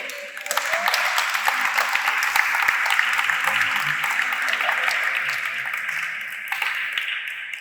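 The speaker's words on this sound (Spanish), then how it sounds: "¿Cuánto le dan un fuerte aplauso al Señor?" Congregation applause to the Lord during a church sermon, a dense, sustained clapping from many people with a few sharp, distinct claps standing out, holding steady before easing slightly at the end.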